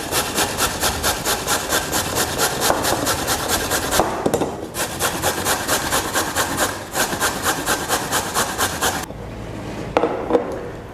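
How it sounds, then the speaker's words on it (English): A carrot is grated by hand into large juliennes, with fast, evenly spaced rasping strokes close by that run in steady bursts and break off with short pauses before fading out at the end. "that's why I'm grating it into larger juliennes"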